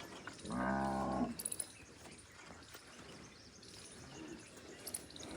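A bull gives one loud, close, deep moo lasting under a second at a farm near a cow, followed by quiet outdoor ambience with faint bird chirps.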